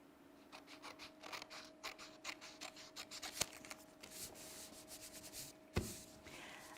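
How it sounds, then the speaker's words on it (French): Scissors snip through paper along a dotted line while a kamishibai storyboard is cut out: a quiet, steady series of short crisp cuts, with one sharper snip near the end and no talking. "on donne un coup de ciseau sur la petite ligne pointillée"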